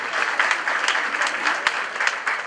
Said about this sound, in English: Let's give a round of applause to the couple.